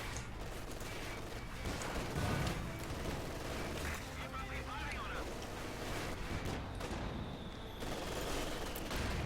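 Rapid rifle and machine-gun fire crackles through a Company of Heroes 2 battle between German Ostheer and US Forces, dense and continuous amid explosions, with a commentator talking over it.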